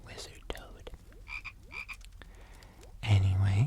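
Soft croaks and raspy chirps from a toad, recurring in short bursts over quiet close-up rustling, then a louder low drone near the end.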